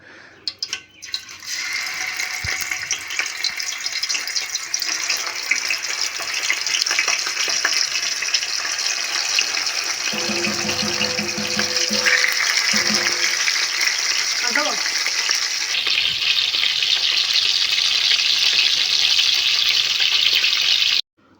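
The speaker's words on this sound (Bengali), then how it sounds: "মাছ ভাজার সময় তেল প্রচণ্ড কিন্তু ছেটকায়" Pieces of fish, for a hotel-style doi katla, fry in hot oil with a steady broadband sizzle and spatter throughout, close and loud, occasionally punctuated by clinks of a utensil and brief low thuds as pieces are moved.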